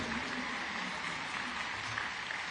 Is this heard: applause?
yes